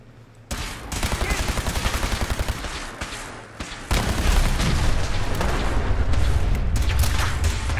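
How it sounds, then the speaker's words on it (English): A firefight in Fallout 4, with rapid bursts of gunfire repeating in quick succession. The shots are loud and close and run almost without a break, pausing briefly before an even denser barrage. "Curie, a little cover fire, please."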